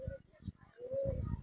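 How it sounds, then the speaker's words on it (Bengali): A Pakistani male pigeon and a Rajshahi Giribaz pigeon coo in short, low, throaty phrases, close by, with a longer drawn-out coo near the end. "এটা পাকিস্তানি নর কবুতর আর এটা আমাদের রাজশাহীর গিরিবাজ।"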